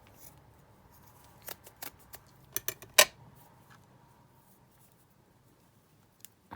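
Scissors trim lace for a junk journal at a desk: a handful of close, crisp snips come in a loose cluster midway, followed by quiet and two final faint cuts.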